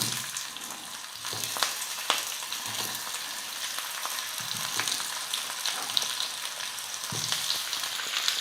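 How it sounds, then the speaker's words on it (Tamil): Raw plantain fries in hot oil with popped mustard seeds, cumin and curry leaves, giving a steady close sizzle with occasional stirring scrapes and no voices. "1 நிமிஷத்துக்கு வந்து எண்ணெயிலேயே நல்லா வறுத்துக்கலாம்."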